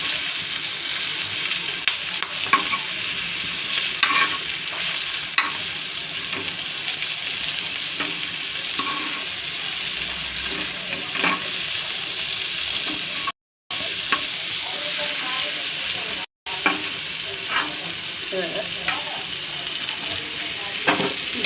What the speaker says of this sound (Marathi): आपण या साईडून फ्राय करून घेऊया.